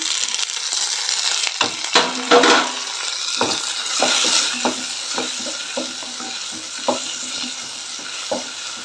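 Chopped tomato sizzles in a hot pan for vegetable ragi soup while a spoon stirs and scrapes in repeated clacks and rustles, close up with no talking.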